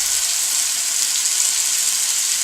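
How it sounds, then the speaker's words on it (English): A constant, loud sizzle of a seitan steak frying in a hot pan, steady and close with no talking. "let's go ahead and fry this little steak up"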